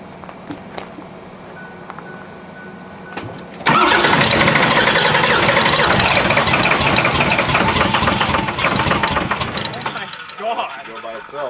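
A 2008 Ford Super Duty diesel engine on a bagged truck cranks briefly, then catches and roars into a loud, steady rumbling idle that settles near the end, close to the microphone, with people talking over it.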